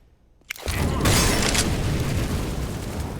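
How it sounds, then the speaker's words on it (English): A flashbang grenade in the game CS:GO goes off after a short quiet lead-in: a sudden loud burst followed by a sustained roaring wash of noise that fills the rest of the moment. "I'm throwing flashback. I'm throwing smoke. Flashbang."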